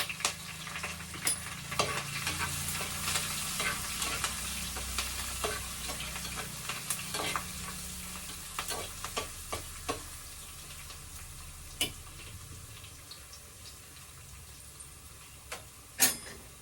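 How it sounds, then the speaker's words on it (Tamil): Crushed garlic and curry leaves fry in oil after mustard seeds, a soft sizzle that fades over time, with scattered sharp ticks and spatula taps against the pan, one louder knock near the end. "அந்த பூண்டு ஆயிலில் ஃப்ரை பண்ணாவே நல்லா வாசம்"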